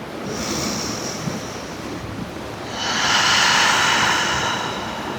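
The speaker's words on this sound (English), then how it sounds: "Got some lovely waves happening out here." Ocean surf rolls onto a shoreline outdoors, a broad rushing wash that swells louder in the second half, mixed with gusty wind buffeting the microphone and no voices.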